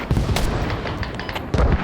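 Gunfire rings out in the military shooter game Squad: heavy, booming shots crack close and loud. Two main bursts ring out less than two seconds apart over a dense rumble.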